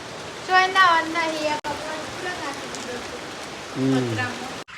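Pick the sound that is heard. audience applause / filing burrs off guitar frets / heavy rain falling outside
heavy rain falling outside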